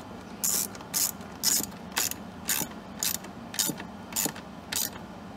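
Ratcheting clicks from a hand wrench tightening fittings on a Honda EU6500is generator during a propane and natural gas conversion, in nine short evenly spaced bursts, close and clear against a quiet background.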